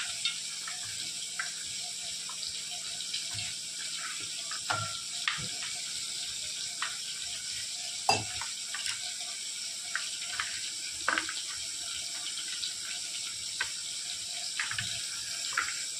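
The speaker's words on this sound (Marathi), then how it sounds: "आता ह्याला मी स्वच्छ 1-2-3 पाण्याने धुवून घेणार आहे" Pieces of Bombay duck fish coated in jowar flour are rinsed under a running kitchen tap. The water streams steadily and close, broken by small splashes and clatter as the fish is handled.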